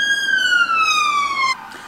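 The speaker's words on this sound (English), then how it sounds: "Of course, it's a siren when I want to film." A loud siren wails steadily with a slowly falling pitch, then cuts off abruptly near the end, leaving quiet background.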